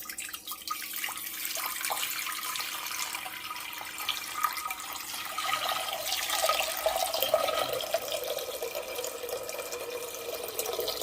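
Water runs steadily from a tap into a pasta pot, a continuous hissing splash that holds for several seconds with no talking.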